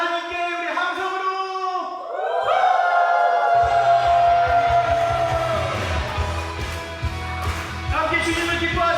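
A church congregation at a family camp Sunday service shouts and cheers loudly to God, a swelling crowd roar with high whoops that builds and sustains, starting after a voice over a microphone.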